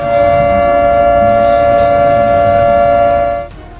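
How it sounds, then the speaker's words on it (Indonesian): An emergency air raid siren blares loudly and continuously, holding a steady droning tone through the night before cutting off near the end. "Sirene darurat menggema di seluruh penjuru, memecah malam yang biasanya tenang."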